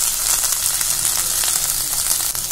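Cluster beans dropped into a hot pan fry with a loud, steady crackling sizzle that stays dense throughout.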